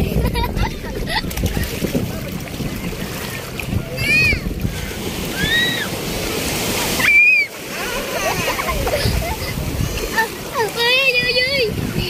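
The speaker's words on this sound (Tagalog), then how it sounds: "Malakas ang alon." Strong sea waves churn and splash continuously nearby on a beach in Pangasinan, Philippines, with shouting and excited voices over the surf.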